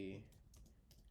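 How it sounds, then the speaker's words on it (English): Quick, light keystrokes clatter on a computer keyboard, a few close taps in a short burst following a brief spoken word, in a quiet room. "So now I'm gonna first begin by typing in my note."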